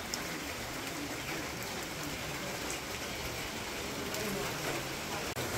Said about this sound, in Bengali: বৃষ্টি একটু কমে গেছে, তারপরও গড়ি গড়ি আছে বৃষ্টি।